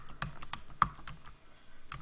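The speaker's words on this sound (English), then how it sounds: "I'm pretty clearly typing things" Typing on a computer keyboard during programming work: a close, irregular run of key clicks with one sharper tap and brief pauses, no voices over it.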